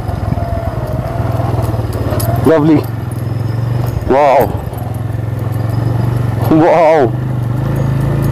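Motorcycle ridden over an off-road green track, its engine running steadily and close throughout while the rider exclaims excitedly three times over it.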